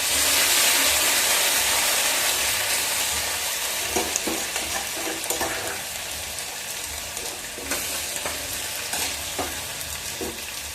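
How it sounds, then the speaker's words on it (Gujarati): Potatoes frying in hot oil with curry leaves, ginger and garlic, a loud continuous sizzle close up with occasional stirring scrapes, steady throughout. "બટેટા આપણે થોડીક વાર તેલમાં સળવા દેવાના છે."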